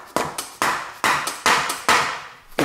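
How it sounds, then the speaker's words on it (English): A plastic hammer strikes a seized bolt on a car or truck engine in six sharp, close blows at a steady, slightly uneven rhythm, each ringing briefly before the next hit. "when we hit that area, this bolts opens easier"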